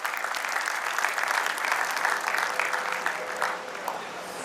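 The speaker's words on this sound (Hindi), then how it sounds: "मैं आप सबसे विनती करता हूं कि जोरदार तालियों के साथ स्वागत कीजिए हमारे प्रिय सीएफए साहब का।" Audience applause at a Haryana State Agricultural Marketing Board gathering welcoming the CFA: steady, dense clapping from a sizeable crowd, sustained for several seconds and tapering slightly at the end.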